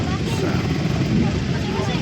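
A large motorcycle idling and rumbling nearby during Typhoon Basyang in Iligan City, a steady low engine drone under people talking.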